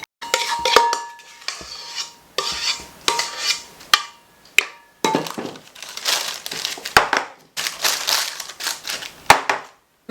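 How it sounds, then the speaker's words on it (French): A spatula or spoon working through cake batter with raspberries in a bowl, a series of close scraping, clinking strokes in irregular bursts with short pauses between them. "Mélangez délicatement le framboise avec du mélange."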